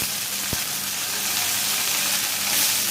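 Onions fry in oil with dried chillies and mustard seeds, producing a soft, continuous sizzle and hiss with one sharp knock near the start and no talking.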